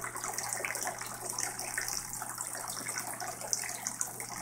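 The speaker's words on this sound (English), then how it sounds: "We got the pump going and the water flowing through the system throughout the routes." An aquaponic system with its pump running and water flowing through the pipes produces a steady, fairly quiet rush and trickle of water with a low constant hum underneath and no voices.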